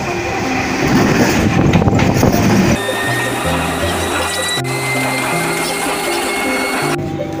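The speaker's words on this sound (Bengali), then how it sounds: "ট্রেন ঢুকছে, আমি এই ট্রেন ধরবো" A train pulling into a suburban rail station, first a loud rumbling rush of the cars and then a screeching, tonal squeal of brakes as it slows, close by and without speech.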